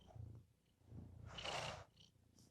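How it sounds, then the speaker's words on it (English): A domestic cat purring close by, a soft continuous rumble that swells briefly louder midway through, with no voices. "I hope it's picking up on his purring because it's the sweetest thing ever"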